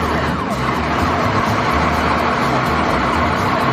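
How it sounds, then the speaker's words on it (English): A fire truck siren blares close and loud amid a dense, continuous roar of traffic-like noise, with a steady low pulsing underneath. "Fire truck."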